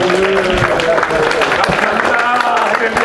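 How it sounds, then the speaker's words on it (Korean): An audience applauds elder Park Hyung-man at a 5.16 revolution anniversary ceremony, a dense, steady wash of clapping lasting the whole stretch, with tonal sound running underneath. "박형만 장로님한테 다시 한번 큰 박수 부탁드립니다"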